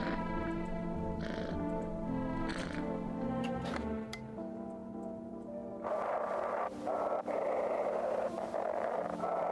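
A cat meows a few times in the video game A Conversation With Death, over steady electronic game music and background hum.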